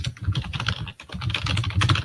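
Rapid, continuous clatter of typing on a computer keyboard, close and fairly loud, with one brief pause near the middle.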